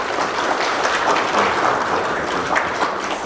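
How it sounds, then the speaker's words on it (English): Steady, dense applause from a conference audience, many hands clapping at once in a continuous wash that holds at an even level throughout. "Can we give him a round of applause?"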